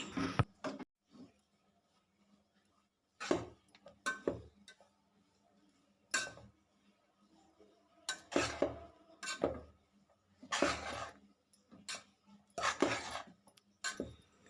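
Puffed rice soaked and squeezed, then mixed with tempering in a pan, giving irregular bursts of scraping and clinking from a spoon against the pan, with quiet pauses between.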